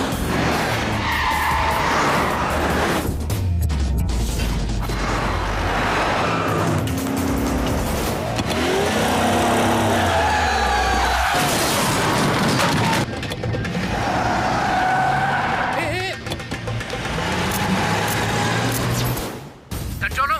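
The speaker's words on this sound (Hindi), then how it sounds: "ये AP36 A111 गाड़ी अभी अभी सिग्नल तोड़कर भागी है। एक एक्सीडेंट भी किया है।" Car fleeing after running a traffic signal, registration AP36 A111, having caused an accident: loud continuous engine roar with tire skidding and squealing, close and sustained, with voices talking over it in places.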